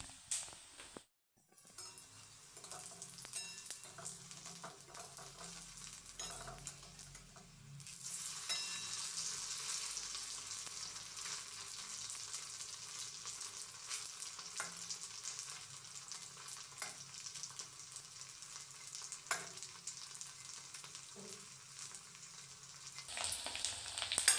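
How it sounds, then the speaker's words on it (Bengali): Sago vadas deep-frying in hot oil make a steady, close crackling sizzle that runs almost the whole time, with an occasional soft clink of a utensil against the pan. "এরকম করে আমি সমস্ত বড়াগুলো ভেজে নেব।"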